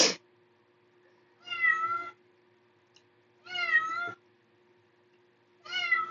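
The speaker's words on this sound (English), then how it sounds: "It's it's a male cat." A male cat meows three times, each drawn-out call close and clear, separated by a second or more of quiet with a faint steady hum underneath.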